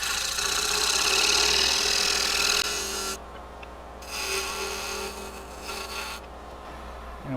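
A wooden lid turning on a lathe while a tool shapes a gentle cove, giving a steady, loud scraping rasp with a hum underneath, broken by a couple of brief pauses and dips in level.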